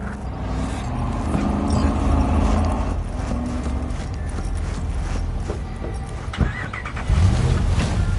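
A car in Cyberpunk 2077 starts up and drives off, a steady engine rumble running throughout with a louder surge near the end.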